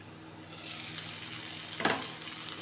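Okra in a curd masala sautéing in a pan under a lid, a steady close sizzle with a brief scrape of stirring near the end.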